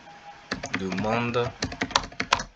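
Keys clatter on a computer keyboard as a search is typed into Google Chrome, a quick irregular run of close clicks with a voice speaking briefly over the first part.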